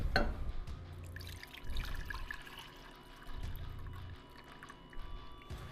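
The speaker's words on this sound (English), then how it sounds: "what we're gonna do is transfer this milk to another bowl" Custard milk poured from a pot into another bowl, a faint liquid trickle with low intermittent glugging swells, quiet and close, without speech.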